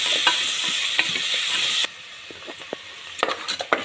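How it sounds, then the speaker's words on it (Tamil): Onions frying in a pan for a mushroom biryani made in a cooker, a steady close sizzle with scattered stirring scrapes; partway through the sizzle drops quieter while sharper clinks and scrapes continue. "இப்போ வெங்காயம் போட்டுக்கலாம். இதில் நல்லா வதங்கட்டும்."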